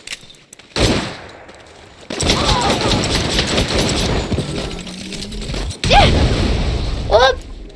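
Bursts of gunfire ring out in Saints Row, loud rapid shots and clattering impacts over several seconds, with someone talking over the shooting.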